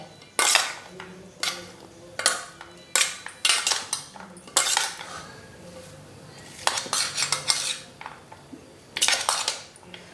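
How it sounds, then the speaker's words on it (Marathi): A spoon repeatedly clinks and scrapes against a bowl while a fruit and vegetable fasting salad is tossed together, in irregular bursts of sharp clatter with short pauses between them. "आता हे आपण मिक्स करून घेऊयात"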